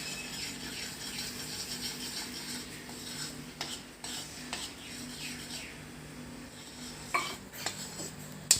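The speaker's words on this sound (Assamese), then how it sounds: "গুড়খিনি উতলিছে" A spoon scrapes and clinks against a pan as jaggery melts and bubbles with a little added water, a faint simmer under sharper intermittent metal knocks and scrapes, no talking.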